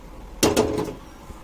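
Pressure cooker being handled and set in place while cooking mutton, giving two close metallic clanks in quick succession followed by a brief rattle and a faint knock.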